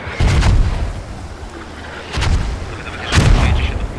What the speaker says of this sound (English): Trading nades left and right.